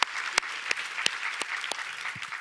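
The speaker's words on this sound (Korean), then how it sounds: "우리 하나님께 감사와 영광의 박수를 드리겠습니다." Congregation at a Sunday church worship service applauds in praise, a steady wash of many hands clapping with sharper individual claps standing out, moderately loud and without speech.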